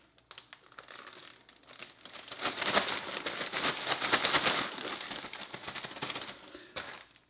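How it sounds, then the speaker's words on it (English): A zipped plastic bag holding paprika, pepper and salt is shaken briskly for several seconds, giving a dense, close crinkling rattle that swells and then fades. "Now go ahead and zip this bag up and just give it a quick shaking to combine all the dry ingredients"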